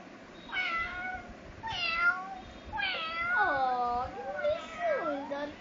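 A cat meows repeatedly: four or five rising and falling cries, close and clear, with soft speech faintly underneath.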